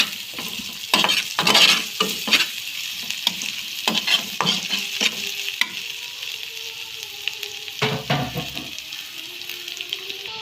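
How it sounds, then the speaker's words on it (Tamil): Chillies, curry leaves and pandan leaves sautéing in oil in a pan for egg-roll filling. A loud, close sizzle runs throughout, broken by repeated scraping stirs of a utensil against the pan. "மிளகாயும் கறிவேப்பிலையும் ரம்பையிலையும் சேர்த்துக்கொள்ளுவோம். எல்லாமே நல்லா வதங்கிப்படட்டும்."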